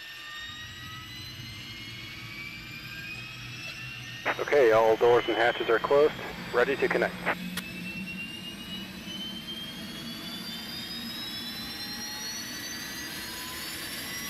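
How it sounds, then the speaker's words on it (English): An Airbus A300 auxiliary power unit spools up as a steady jet-like whine and rising tones, sustained throughout, with a nearby voice talking briefly over it in the middle. "you can probably hear the APU starting up in just a sec"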